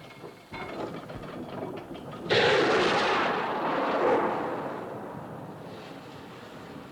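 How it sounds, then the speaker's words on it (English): A distress rocket fired from a ship in an old film launches with a sudden loud whooshing roar that swells and then slowly trails away, preceded by a quieter rumbling background. "Looked like a rocket, sir."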